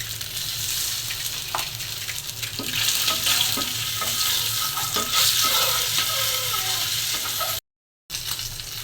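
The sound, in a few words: eggs frying in a pan with turmeric and salt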